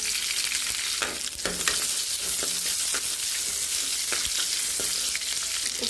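Onions frying in hot oil with cinnamon and curry leaves for a goat liver gravy, a steady close sizzle and crackle with occasional stirring clatters, no voices.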